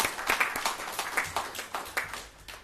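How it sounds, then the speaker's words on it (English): Scattered clapping from an audience at a policymaking and governance conference, a smattering of individual claps rather than a full ovation, moderately distant and fading toward the end. "I invite you to give him another round of applause and show our appreciation"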